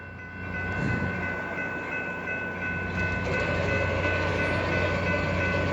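A Nathan K5LA air horn sounds on a slow-moving Christmas train passing at Elm Street in 2011, steady sustained chords over the continuous loud rumble of the rail cars, with no talking.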